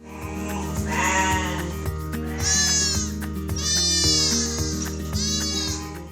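Bandur sheep and lambs bleating on a sheep farm, several loud, close, wavering calls overlapping one another in quick succession, with a rhythmic background pulse beneath them.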